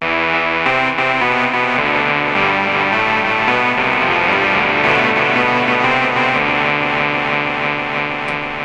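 Lead patch from a KORG monologue analog synthesizer, a sustained buzzy line with effects-like distortion and echo, loud and continuous throughout with shifting notes and no voices.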